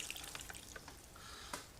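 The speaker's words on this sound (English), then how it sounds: "Now I'm gonna pour it, and it's gonna be really spill everywhere" Iced coffee being poured and spilling, with trickling liquid, light splashes and drips at close range, then a brief louder splash near the end, no talking.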